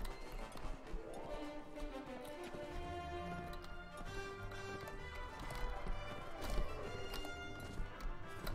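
Horses gallop in battle in Mount & Blade Warband, a dense drumming of hoofbeats amid soldiers' clamor, fairly quiet but continuous and busy throughout.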